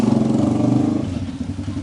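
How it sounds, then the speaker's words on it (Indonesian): A motorcycle rides past close by, its engine putting out a loud, rapid, pulsing rumble that eases slightly as it goes away. "Tunggu sebentar ya, ada motor lewat."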